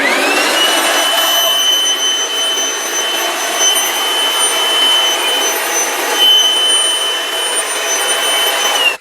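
Bosch GBL 82-270 blower fitted with a pointed nozzle, running as a loud, steady jet-like whine and rush of air close by for about nine seconds before cutting off.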